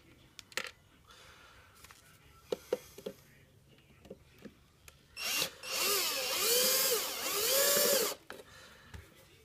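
A power drill drives screws into a hoverboard during a battery replacement, giving a few short buzzing bursts and clicks, then a long loud whirring run that rises and falls in pitch, close up with no talking.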